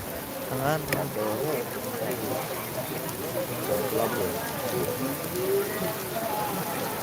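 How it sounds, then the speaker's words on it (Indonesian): Steady rain falling during a night temple ceremony at Pura Penataran Sasih in Pejeng, Bali, a constant hiss throughout with people talking and a faint tonal music over it. "Mudah-mudahan niki hujannya reda."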